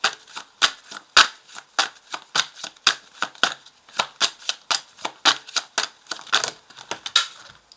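Tarot-style cards shuffled for a card reading, a steady run of crisp riffling snaps and slaps repeating roughly every half second, close and fairly loud with no voices.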